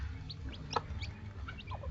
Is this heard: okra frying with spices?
no